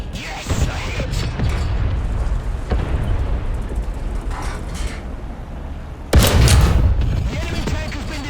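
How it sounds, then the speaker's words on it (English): Enemy tank blowing up in the War Thunder combat game: a low rumbling battlefield bed with scattered thuds, then a sudden loud blast near the end followed by a heavy, roaring explosion tail. "The enemy tank has been destroyed!"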